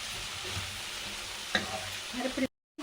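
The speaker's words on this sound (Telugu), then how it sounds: "వాడించినాక ఇంకా బాగా ఫ్రై అవ్వాలి" Okra frying in a pan sizzles with a steady, soft crackle, interrupted by a clink and some stirring scrapes near the end before it cuts to silence.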